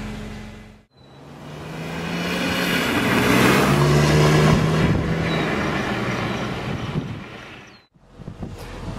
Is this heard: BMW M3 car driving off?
yes